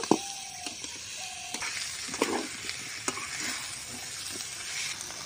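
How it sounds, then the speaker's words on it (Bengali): Fried apple snails stirred with spices in a pan: scraping spatula strokes and clicks against the pan over a soft continuous sizzle, fairly quiet and close, with no talking. "গেরিগুলো দিয়েও আমি ভালো করে আরেকটু এরকমভাবে কষিয়ে নেব"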